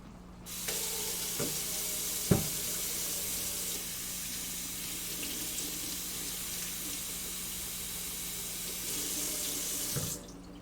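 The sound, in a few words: washing salad greens under running sink tap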